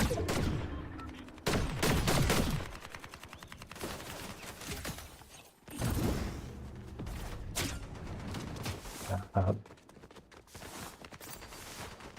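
Bursts of video game gunfire crackle in quick volleys, loud and close, with a pause midway before more shots and scattered impacts follow.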